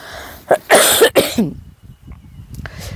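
A few harsh coughs in quick succession, close and loud, followed by quieter breathing.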